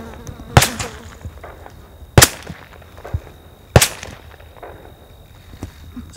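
Suppressed subsonic .45 ACP rounds from a UMP fly past, three sharp cracking snaps spaced about a second and a half apart, loud and close, with faint thuds between.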